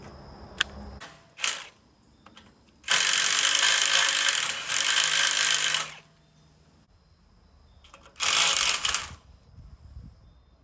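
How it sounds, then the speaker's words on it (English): A power drill with a regular drill bit whirs loudly into an old boat trailer in two bursts, a long one and then a shorter one, with clicks and clunks in the pauses. "Doing that with a regular drill bit is terrible."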